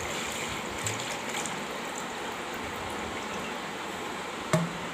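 Churned curd, being made into homemade ghee, pours out of a container in a steady, soft, wet flow. The flow carries on throughout at low volume, with one small knock near the end.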